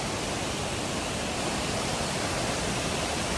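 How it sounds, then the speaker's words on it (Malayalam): An indoor waterfall inside the terminal at Bangalore airport, heard as a dense, steady wash of falling water that stays constant and fills the space with no pauses. "വെള്ളച്ചാട്ടം ഇവിടെ കാണുന്നു."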